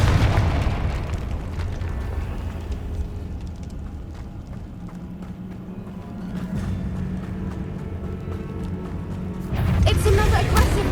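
The Confringo fire-blast spell goes off in the Hogwarts Legacy video game, a booming explosion that rolls on over a rumbling background, with voices speaking over it and a fresh surge of noise near the end.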